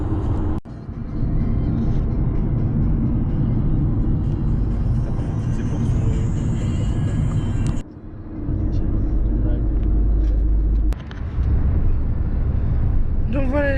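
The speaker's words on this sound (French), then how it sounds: "on est toujours en voiture" Steady road rumble and engine whir fill the cabin of a moving car, loud and continuous with brief dips, while people talk inside over the drive noise.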